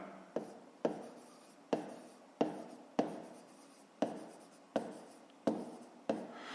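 A pen scratches on paper while someone writes out a fifth-grade math exercise, in short repeated strokes at a steady rhythm, close and fairly quiet, with no talk.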